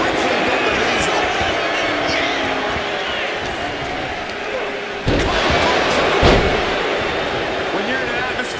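A scoop slam in the WWE 2K26 wrestling video game lands as a heavy impact thud about five seconds in, followed by a second loud hit, all over a steady, roaring arena crowd with commentary voices.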